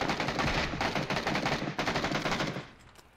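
Rapid bursts of gunfire in the battle-royale video game PUBG, a dense, loud volley of automatic shots rattling almost continuously before cutting off near the end.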